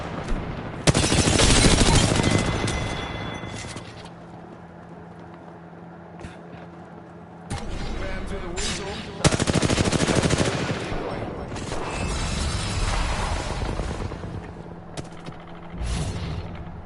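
Automatic gunfire in the video game Apex Legends rattles in long bursts with short gaps, loud and close, mixed with game sounds and some voice.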